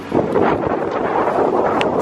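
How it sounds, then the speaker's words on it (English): Strong wind buffets the microphone at a NASCAR speedway fan zone, a steady broadband roar with gusty swells throughout and no clear voices. "the wind is whipping."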